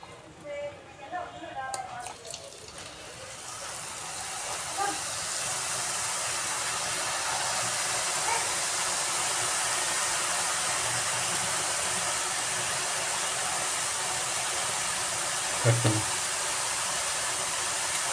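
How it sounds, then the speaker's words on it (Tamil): Ribbon pakoda dough hisses as it is pressed into hot oil over a medium flame, a loud, steady broadband sizzle that swells after a few seconds and continues close up, with a brief clatter near the end. "எண்ணெய் காஞ்சோன்னு மிதமான தீயில வச்சு புளிஞ்சு விடுங்க"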